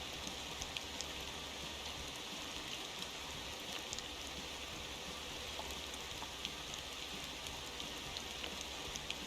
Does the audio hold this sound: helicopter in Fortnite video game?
no